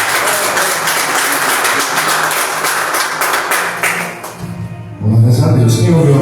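Church congregation clapping together during a worship service, a steady rhythmic patter of many hands through most of the clip before fading out, after which a voice and low tones take over.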